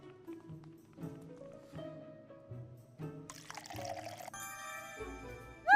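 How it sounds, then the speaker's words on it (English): A cafe-sim game pours coffee in Critter Cafe with a soft synthetic trickle across several short pulses, then a bright chime-like flourish near the end; no talking. "A to start pouring, release to stop, aim for the sweet spot to make it perfect"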